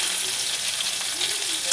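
Vegetables for sukto frying in a pan, a loud, dense, continuous sizzle with light stirring, no voices.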